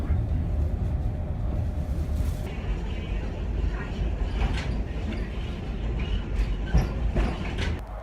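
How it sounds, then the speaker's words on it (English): Steady rumble of a tram rolling through Tallinn, with a low continuous drone, a few brief squeals and clatters of the wheels on the rails throughout. "Riding on the tram."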